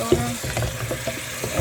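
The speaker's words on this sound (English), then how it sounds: "I'm stirring the baking soda in the bottom." Baking soda is stirred in the bottom of a container, heard as a short burst of close, wet scraping and swishing strokes. A brief faint tone sounds at the start, and no one talks.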